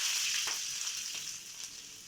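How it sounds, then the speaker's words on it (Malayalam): Mustard seeds crackle and sizzle in hot oil during prawn curry tempering: a steady bright frying hiss with a few sharp pops, close and continuous, no voices. "അപ്പോൾ ഓയിൽ ചൂടായി വന്നിട്ടുണ്ട്. നമുക്ക് അതിലേക്ക് കടുകിട്ട് കൊടുക്കാം."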